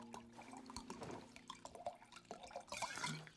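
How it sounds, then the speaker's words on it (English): Wine pours in the card-table video game Card Shark, a faint run of small liquid splashes and drips lasting a few seconds, quiet and close. "Good pour. I'm good at pouring."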